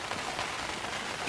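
Steady rain patters on a bivvy shelter, a continuous soft hiss of drops with no pauses, fairly quiet and even throughout.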